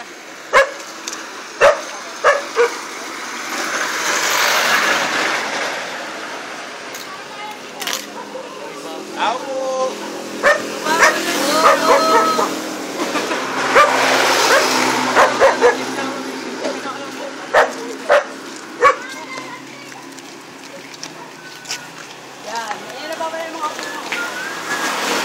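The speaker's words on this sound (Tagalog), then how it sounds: "Takot naman ang aso." A dog barks in sharp, separate yaps spread across a long outdoor stretch, loud and close, with people talking and a rushing background in between.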